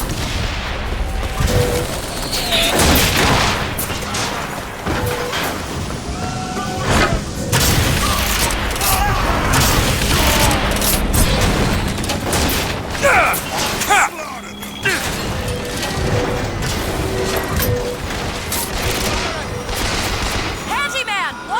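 Rocket blasts and gunfire in the Bioshock Infinite video game, a dense, loud barrage of repeated booms and cracks that continues throughout, with voices calling out in between.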